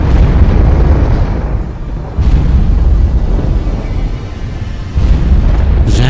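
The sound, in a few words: explosion effect for giant galaxy black hole eruption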